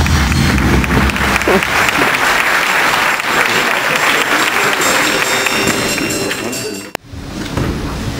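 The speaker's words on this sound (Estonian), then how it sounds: "Ja aplaus jõuluvana" Loud, sustained audience applause for Santa Claus at a school Christmas party, a dense crowd of clapping with a murmur of voices, cut off abruptly near the end.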